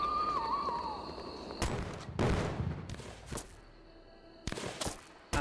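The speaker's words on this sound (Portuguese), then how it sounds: "A partir do momento que você é descoberto aqui, eles começam a mandar tiro em você aí" Gunfire in the Wild West sniper shooter Western Sniper: Wild West FPS, several sharp game gunshots in irregular bursts, loud and close, over a steady game background with a brief tone at the start.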